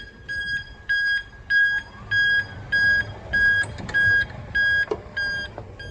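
A Motrec 360F electric cart powering on gives a steady series of high, evenly spaced beeps, about ten in a row, with faint mechanical clicks and low hum underneath.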